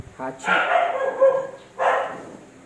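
Dogs give two short, loud barks close by. Someone talks quietly underneath them.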